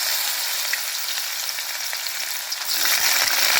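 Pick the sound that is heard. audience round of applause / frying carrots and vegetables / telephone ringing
frying carrots and vegetables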